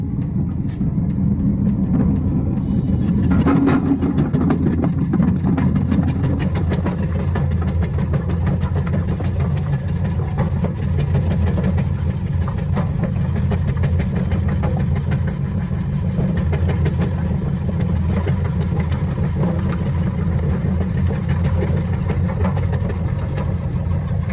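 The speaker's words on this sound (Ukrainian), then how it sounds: "Ми нарізаємо картоплю брусочок." An STvega Dicer H400 industrial machine cuts potatoes into 8 mm sticks, giving a continuous loud motor drone with a faint rattle that stays steady throughout, with no voices.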